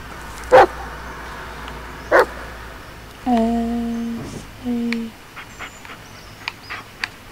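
A dog in the Blair Witch video game gives two short sharp barks, then a few whining, whimpering calls, followed by light clicks and taps at moderate distance.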